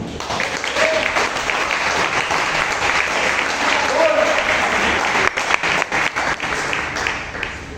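A church congregation applauds at a Portuguese-language service, steady dense clapping sustained throughout, thinning slightly toward the end, with faint voices mixed in.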